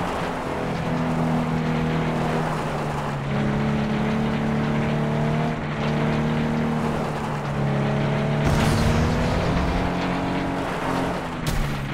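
A race car drifting in the Flatout 2 video game, with a steady, loud engine drone whose pitch holds and shifts through the turn. Brief bursts of noise break in near the end, and no one talks.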